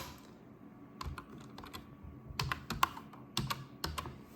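A username being typed on a computer keyboard: scattered clusters of crisp, close key clicks with short pauses between them, quiet and without speech.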